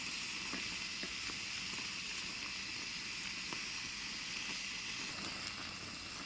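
A tomahawk cowboy ribeye steak sears on an RV grill, giving a steady, close sizzle with occasional crackles and pops and no talking.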